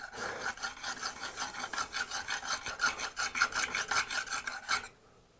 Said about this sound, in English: you kind of sharpen it